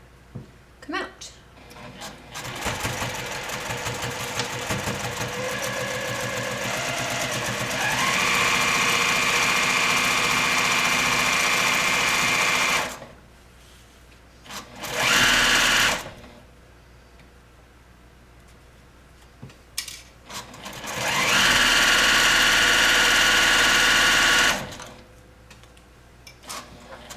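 A sewing machine runs along a necktie edge in two long, steady bursts of rapid mechanical stitching, each stopping abruptly, with brief pauses and a short burst between them.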